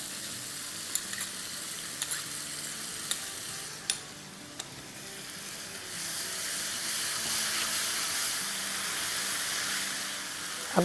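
Yogurt sizzling in a hot pan for egg gotala, a steady hissing fry with occasional spoon clicks, close and continuous, swelling slightly toward the end.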